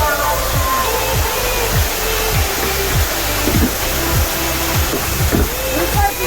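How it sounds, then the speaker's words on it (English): A small four-foot waterfall inside a cave at Hall's Hollow gives a steady, close, full rushing roar with no break, and a series of dull low thumps repeats roughly every half second underneath. "Mervin said there was a 4-foot waterfall back in here"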